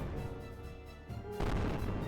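Cannon fire in the video game Architects Exodus: a faint, muffled boom heavier near the end, over a low rumbling game background with no talk.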